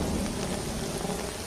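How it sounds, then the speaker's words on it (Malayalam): Heavy rain pours down in a dense, constant roar, with a low rumble of thunder underneath, loud and unbroken throughout. "മഴ ആർത്തലച്ച് പെയ്യുകയാണ്."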